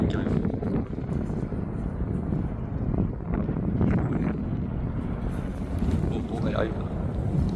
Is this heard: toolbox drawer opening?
no